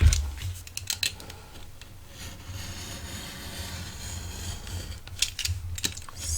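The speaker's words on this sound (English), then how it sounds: "I'm going to cut right along that line right there with my" A craft knife cuts along a line in chipboard, with short scraping strokes and taps near the start and again near the end, quiet in between.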